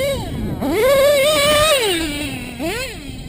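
Modified engine running rich, revving up and down in close, loud sweeps with a rising and falling pitch, two distinct rev cycles.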